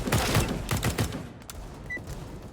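Gunfire in CS:GO, including pistols, fires as a quick fusillade of sharp shots, then the firing stops and quieter game sounds remain.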